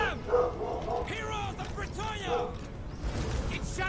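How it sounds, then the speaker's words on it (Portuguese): A dog barks a few times in a Total War: Warhammer II battle, with yips over dense game noise and someone speaking Portuguese nearby. "Esse cachorro dando oi pra vocês aí."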